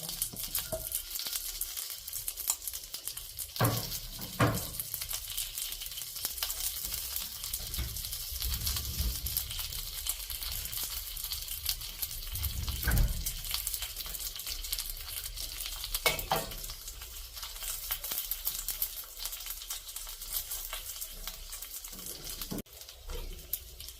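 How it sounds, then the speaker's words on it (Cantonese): Chinese cured pork (lap yuk) rendering its fat in a pan over medium-low heat, with a soft, continuous sizzle and crackle and occasional stirring thumps and scrapes, and no talking. "主要都係將慢火將啲油滴出嚟，咁啊用啲油，啲臘肉油嚟炒菜"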